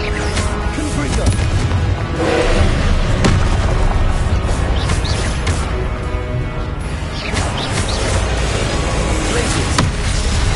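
A Confringo blasting spell explodes during Hogwarts Legacy gameplay amid a dense, continuous wash of loud booms and crashes, with several sharp bursts cutting through the steady roar of combat.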